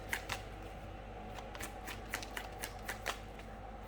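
Tarot cards being shuffled by hand, a quiet, close run of papery riffles and flicks with soft irregular taps.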